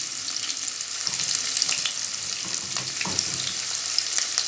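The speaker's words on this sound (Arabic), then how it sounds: "طبعا كده الأول هندبل كده البصلة ونقلبها كده كويس لغايه كده لما تبدا كده تدبل معانا" Onion frying in hot oil, a steady bright sizzle with occasional soft scrapes and clinks of a spoon stirring in the pan, close and continuous with no voices.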